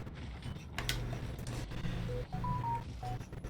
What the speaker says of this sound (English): I need to turn off my sound and notifications because someone is apparently trying to contact me at 1 in the morning